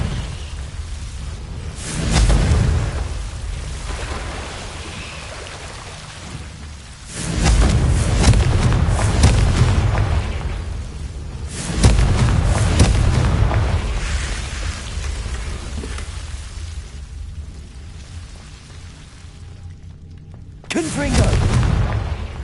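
Booming spell explosions from the Confringo blast curse in a video game, several loud bursts spaced a few seconds apart with rumbling tails, a voice talking between them.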